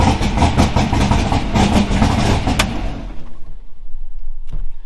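A twin-turbo 468 big-block engine with Holley EFI runs loud and close with a rough, pulsing rhythm, then cuts off abruptly, leaving a quieter background and a single sharp knock.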